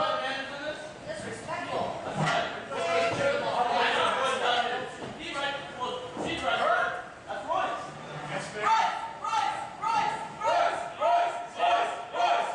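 Crowd at an indoor singles pro wrestling match chanting in loud rhythmic bursts, steady repeated chant pulses in the latter half, with cheering and commentators talking over it throughout.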